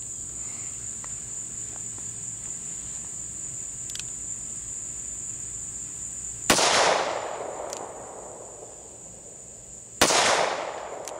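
Two loud .38 Special +P shots from a Smith & Wesson 686 revolver, fired off-hand at a target 7 to 10 yards away, crack out several seconds apart, each with a lingering echo over a constant outdoor cricket drone.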